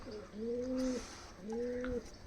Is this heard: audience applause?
no